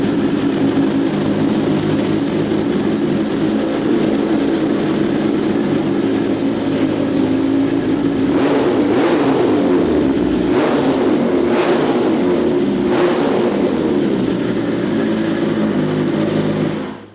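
A Ducati Panigale V4 SP2 engine roars loudly and continuously nearby, with several sharp revving surges in the second half before it cuts off abruptly at the end.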